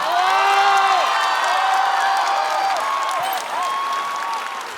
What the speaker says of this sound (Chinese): 我们掌声有请嘻哈